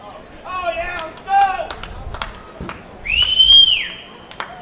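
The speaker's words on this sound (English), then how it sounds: "Ooh, that was a very loud whistle" A loud, piercing whistle sounds from the crowd at a Laredo Lemurs vs Kansas City T-Bones minor-league baseball game, one long rising and falling note rising over a play-by-play announcer talking and light stadium noise.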